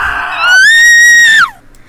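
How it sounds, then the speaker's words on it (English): A single loud, sustained high scream, rising in pitch, holding steady and then sliding down before cutting off, heard alone with a faint low rumble underneath, in a dubbed manga episode. "We were helpless as we heard the screams of our parents, a petrified scream that shot through our souls as Edmond clung to me, shaken and afraid."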